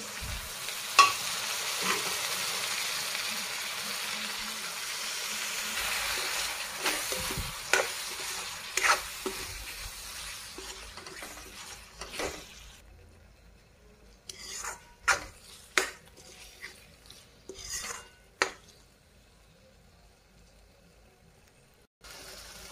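Cooked vajdi (goat tripe) tossed into fried masala in a pan, giving a steady loud sizzle for about ten seconds that fades, then a run of sharp spatula scrapes and clacks against the pan over a quieter frying hiss.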